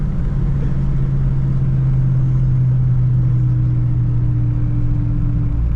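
A Dodge Hellcat's engine rumbles loud and close with a deep, steady low drone, its tone rising slightly partway through as it revs.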